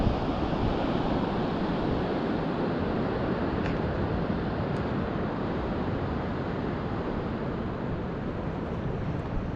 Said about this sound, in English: The ocean. Tide is starting to go out now.